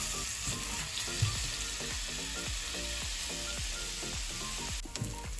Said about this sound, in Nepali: प्याजलाई एकछिन रातो हुने गरी भुट्नुपर्छ।